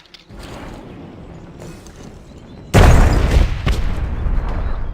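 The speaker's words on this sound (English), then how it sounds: "I think I blew up one, and then the explosion blew up the other, and then it killed the dwarf" Explosion in the strategy video game Myth, a sudden loud booming blast that cuts into ongoing mechanical battle noise, then rumbling debris and clatter trailing off.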